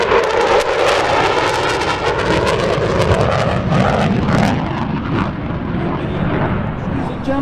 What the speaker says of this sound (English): Here it comes from the right, the F-15.